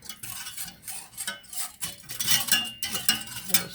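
A whisk scrapes and clinks steadily against a pot on the stove over medium-high heat, mixing hummus ingredients until smooth. The quick metallic taps and swishes are fairly faint, with no talking.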